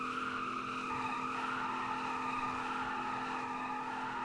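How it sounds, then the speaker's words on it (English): A Chevrolet Silverado truck, a 2002 GMT800 model, doing a burnout, with its tires squealing in a long, steady, loud screech over a constant engine roar and no break for the whole stretch. "You can really do any gear burnout you feel like doing."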